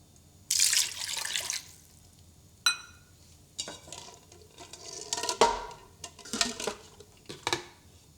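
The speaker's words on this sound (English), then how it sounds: "Once you put all your eggs inside the container, add about 1 cup of water." Water poured from a cup into a container of whole eggs for Chinese tea eggs gives a short splashing burst, followed by scattered clinks and knocks of the container and utensils, close and fairly quiet.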